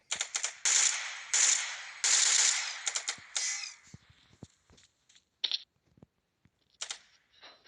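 Nearby gunfire cracks out in several sharp bursts of rapid shots, followed by scattered single reports and fainter distant pops between quiet gaps, with no talking.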